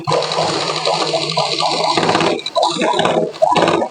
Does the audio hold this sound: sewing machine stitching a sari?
yes